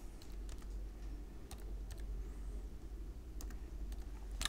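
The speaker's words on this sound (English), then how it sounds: "We're going to take a moment right now just to go ahead and type that in." Someone types an authorization code on a computer keyboard to install DJ software, giving irregular bursts of crisp key clicks close to the microphone over a low hum, with short pauses between bursts.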